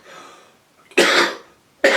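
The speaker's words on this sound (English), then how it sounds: "as you can see, the cough's not gone" A man coughs twice, close and sharp, each harsh burst separated by a short silence, with a faint throat rasp just before the first.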